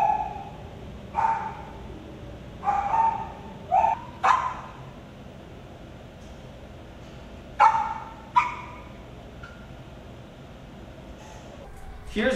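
Dogs barking at an animal shelter, several sharp bursts and clusters of barks and yips spread out irregularly, fairly close, with quieter stretches between them.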